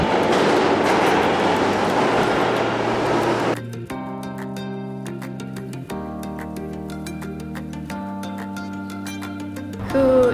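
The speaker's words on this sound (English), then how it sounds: "here comes the train" A train passes in New York: a loud, rushing rumble at first, then steady, sustained metallic tones with rhythmic clicking from the wheels, with a louder surge at the very end.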